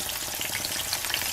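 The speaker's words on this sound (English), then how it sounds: "We'll fry them up until they start to brown," Flour-coated onion pieces frying in a pan of hot oil, a steady dense crackling sizzle heard close and continuous with no talk.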